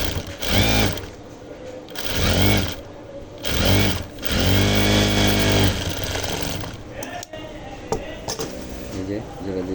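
A sewing machine joins a separate strip of fabric onto a kameez to lengthen it, running in several short bursts of rapid stitching with pauses between, while a person talks throughout.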